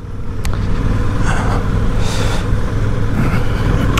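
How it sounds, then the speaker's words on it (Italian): A Suzuki V-Strom 800 motorcycle engine drones steadily and loudly while riding on a test ride, with wind rush and no talking. "Qui il motore spinge abbastanza bene"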